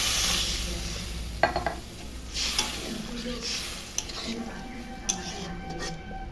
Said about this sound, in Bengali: কিন্তু কোনো মশলা বাটা দিব না, তো ঝোল দিয়ে দিচ্ছি